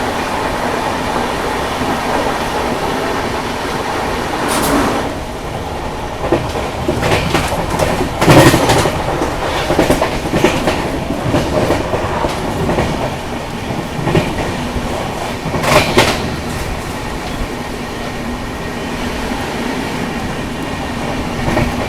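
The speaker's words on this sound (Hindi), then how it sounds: "अभी अपनी ट्रेन एक और ट्रेन को ओवरटेक करने वाली है" The Vikramshila Express runs loud and close, its rolling rumble and rhythmic clickety-clack of wheels over rail joints swelling in bursts as it overtakes another train, with no talking.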